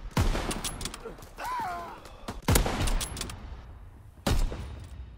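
Gunfire in a fast-paced multiplayer shooter: a few sharp, loud reports spaced out across a few seconds, with faint effects and breathy vocal sounds in between.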